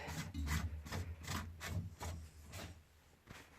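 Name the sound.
unscrewing a plastic filter lid by hand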